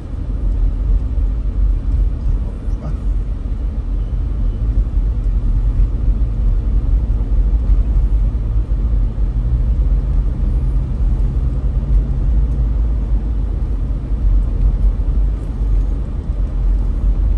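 Road traffic heard from inside a vehicle on a drive through Cebu City, Philippines: a steady, loud, low engine and road rumble that continues unbroken for the whole stretch, with no talking.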